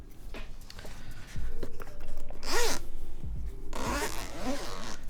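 A zipper on a hard keyboard case is drawn open in a few quick, close rasping pulls, with brief handling noises between them.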